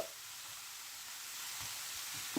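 Broccoli fries in a pan as it is tempered for a Tamil-style vegetable fry, giving a steady, faint, even sizzle with a couple of small stir clicks near the end.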